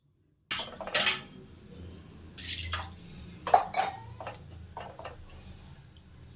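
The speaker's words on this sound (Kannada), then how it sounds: "ನಾನು ಇಲ್ಲಿ ಎರಡು ಲೋಟದಷ್ಟು ನೀರನ್ನು ಹಾಕ್ತಾ ಇದ್ದೀನಿ" Water poured into a cooking pot while making eggplant gojju, splashing and trickling close by with a few metallic clinks of the vessel, short pauses between pours, no talking.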